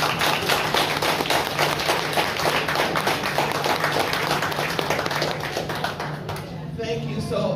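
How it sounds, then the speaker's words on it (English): A memorial celebration of life draws a loud, steady round of applause from the crowd, dense clapping that carries on for several seconds before thinning near the end. "Let's give him that applause."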